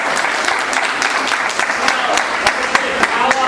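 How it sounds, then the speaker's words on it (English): A crowd at a veterans art exhibit applauds steadily, a dense wash of many hands clapping with a few sharper individual claps standing out, loud and sustained throughout. "Round of applause for all you guys"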